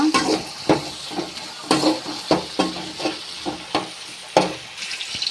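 Tomatoes sizzle in a hot pan for potato kurma while a spoon stirs them in repeated scraping strokes, producing rhythmic bursts of frying noise close up with no speech.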